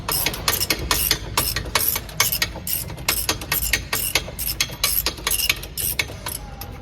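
A mechanic works on a Tempo Traveller during a service, turning parts loose with pliers and a screwdriver. Rapid metallic ratcheting clicks repeat in a fast, steady rhythm at close range.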